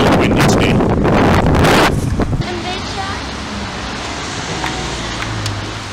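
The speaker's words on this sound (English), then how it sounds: "It's really windy today." Heavy wind buffeting the microphone for about two seconds, then easing into a softer, steady outdoor rush of wind.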